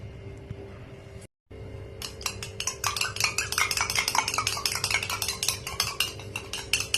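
Egg and sugar are whisked in a bowl for a bread omelette, a quick rhythmic series of close clinking strokes of utensil against the dish after a brief pause.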